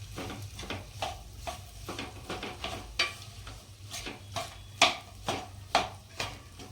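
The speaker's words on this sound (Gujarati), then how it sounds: "હવે ઘી ગરમ થઈ ગયું છે. હવે આપણે અંદર કટ કરેલી ખજૂર નાખીશું." A spoon scrapes rhythmically around a hot pan of chopped dates in ghee, about a dozen steady stirring strokes over a faint sizzle.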